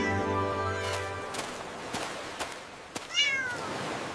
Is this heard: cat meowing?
yes